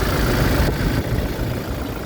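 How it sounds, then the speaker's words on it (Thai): The 2.4-litre diesel engine of a 2018 Toyota Fortuner idles nearby with a steady low rumble and rattling hum that holds constant throughout. "ตอนนี้ยังสตาร์ทเครื่อง เดี๋ยวให้ฟังเสียงเครื่องกัน"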